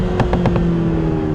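Lotus Emira sports car, supercharged V6 or turbo four, cornering hard at around 6,000 rpm, with a quick run of four sharp exhaust pops over a steady engine drone and cabin hum.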